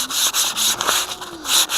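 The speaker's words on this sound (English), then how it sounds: "Start sanding it, like this, into a round curve with not a sanding block." Sandpaper rubs back and forth over a wooden wing edge by hand, shaping a rounded curve without a sanding block, in quick, rhythmic strokes, close and scratchy, with no talking.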